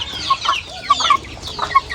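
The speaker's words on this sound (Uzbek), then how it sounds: "Hashak tovuq bilan bemalol birga ovqatlanyapti." Chickens cluck in short, bright bursts while feeding together in a poultry yard, several birds calling close by in an irregular scatter of clucks with no talk.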